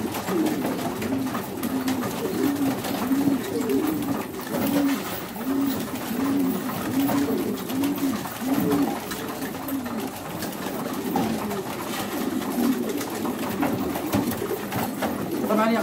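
Damascene pigeons give repeated soft, rhythmic coos close by, in a steady run of throaty phrases, while someone talks intermittently over them.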